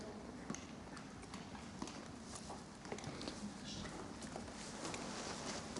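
Soft, rhythmic hoofbeats of a horse galloping over the ground, steady and fairly faint against a wash of background noise.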